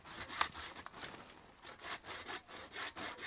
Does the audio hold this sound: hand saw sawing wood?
yes